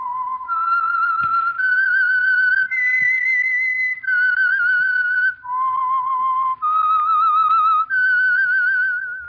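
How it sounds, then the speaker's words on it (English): A human whistler performs the eerie theme signal of the 1948 radio drama The Whistler: a clear, solo melody of sustained wavering notes, stepping up and down in pitch with short breaks between phrases. "That whistle is your signal for the Signal Oil program, The Whistler."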